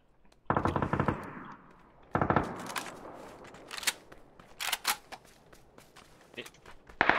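Bursts of automatic gunfire from a tactical shooter video game, two long rattling volleys followed by scattered single shots and sharp cracks at varying distances.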